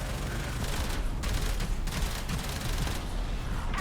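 Sustained rapid gunfire in Warframe as a ship's engines are shot during a Railjack space battle, dense continuous bursts with low rumbling booms throughout, loud and close with no talk.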